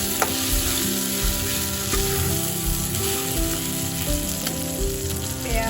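Onion, ginger and garlic frying in a pan for a home-cooked chicken dish, a loud, close, continuous sizzle with faint scraping and occasional light taps of stirring, no talk.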